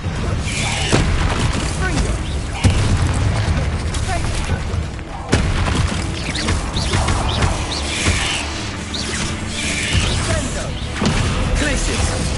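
Confringo fire spells burst in Hogwarts Legacy combat, a run of loud booming explosions and crashes scattered across the passage amid other spell effects, with a voice calling out over the action.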